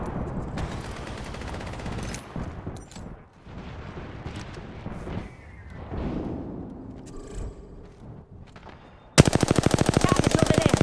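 Automatic gunfire in Apex Legends, busy layered battle shots and explosions, then a sudden loud burst of rapid, evenly spaced machine-gun fire at close range, with faint voices in the mix.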